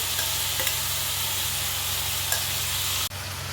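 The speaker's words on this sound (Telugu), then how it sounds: "దీంట్లో మనం ఈ నూక వేసుకోవాలండి. కడిగి పెట్టుకున్న నూక వేసుకోవాలండి" Washed semolina for upma sizzles and hisses loudly and continuously in a hot pan, a dense frying crackle that drops off abruptly near the end.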